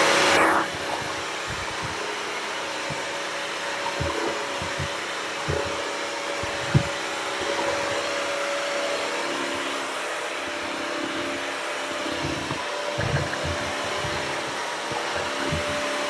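Bissell Crosswave Hydrosteam floor cleaner scrubbing caked-on dirt from tile, a continuous whirring motor hum with faint brushing and rubbing sounds throughout.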